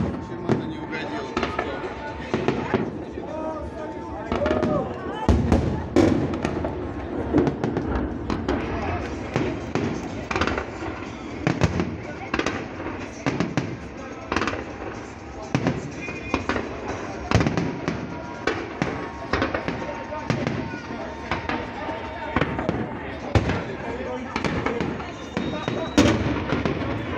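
A fireworks salute display bursts as a dense, continuous series of sharp bangs and crackles at a steady moderate distance, with voices talking underneath.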